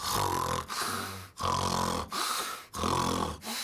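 A voice imitates loud snoring, with several rhythmic rasping snorts, each separated by a brief pause for breath.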